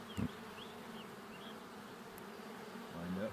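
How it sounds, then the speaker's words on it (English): Honeybees buzz steadily around a beehive at a ranch, a faint continuous drone with occasional individual bees passing close, under light background noise. "see how you got so many bees on there?"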